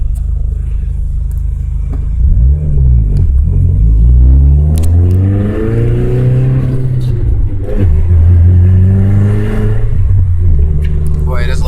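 A modified drag Audi TT engine revs loud and close, climbing and falling in repeated rising sweeps with a rough, booming rumble between.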